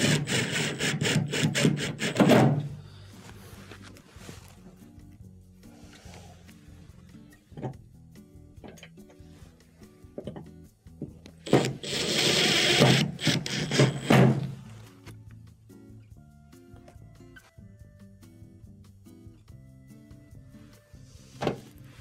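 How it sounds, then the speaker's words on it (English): Screws are driven back into the bottom of a unit resting on a block of wood, heard as two louder grinding bursts of screwing with scattered clicks and handling noises between them. "Let's go ahead and reinsert these 3 screws on the bottom."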